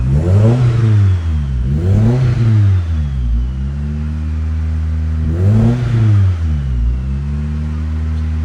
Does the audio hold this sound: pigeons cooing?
no